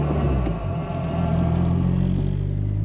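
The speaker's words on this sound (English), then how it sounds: "this car is really loud" Loud car with a straight 3-inch exhaust from the downpipe back, an Asian-made model, revving hard: a steady, close, booming engine drone with deep low rumble that holds strong for about three seconds.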